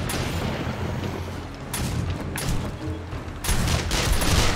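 An automatic turret in 7 Days to Die fires a steady, dense barrage of loud gunshots that swell in bursts over continuous background rumble, with no talking.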